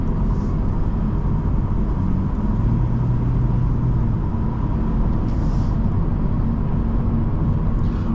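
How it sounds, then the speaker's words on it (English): Steady road and tire roar fills the cabin of a 2024 Lexus IS350 AWD on the move, a constant low rumble with a faint hum and no talking. "Road noise is not bad, although I do hear the tires on the road somewhat."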